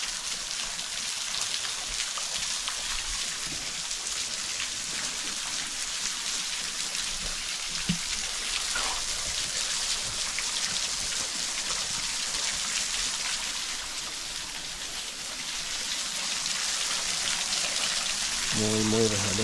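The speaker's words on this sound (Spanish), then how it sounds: "Ay, nos llueve literalmente arriba." Steady rain patters on a forest trail on Cerro El Minuano, a dense even hiss filling the whole stretch with a few brief louder drops and rustles; no speech stands out.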